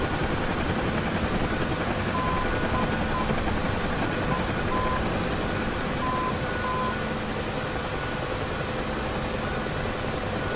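Helicopter flying low over a desert map in the combat flight game DCS World, a steady broad rotor-and-turbine roar that holds at a constant level for the whole stretch, with faint intermittent electronic beeps over it.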